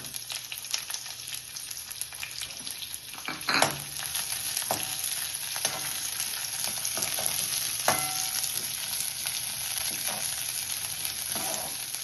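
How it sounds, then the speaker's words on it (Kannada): Lengthwise-sliced onion and garlic fry in a spoonful of oil in a heated kadai, giving a steady close sizzle with scattered stirring clicks and scrapes. "ಈಗ ಉದ್ದ ಹೆಚ್ಚಿದ ಈರುಳ್ಳಿ ಮತ್ತು ಬೆಳ್ಳುಳ್ಳಿ ಹುರ್ಕೊಳ್ಳೋಣ"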